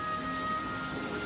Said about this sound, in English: Is it still raining?